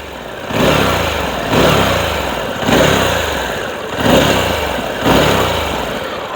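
A 2023 Harley-Davidson Pan America 1250 motorcycle engine revving hard in repeated surges, about five blips that each rise and fall back to idle, loud and close with no talk.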